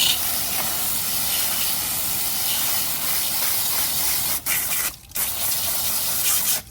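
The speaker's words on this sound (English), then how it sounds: "These ones we're going to use a high pressure, and we're going to rinse those out" A high-pressure hose sprays water to rinse hair-clogged filters from a Pacvac Glide 300 backpack vacuum, a loud, steady hissing gush that briefly cuts out twice near the end before resuming.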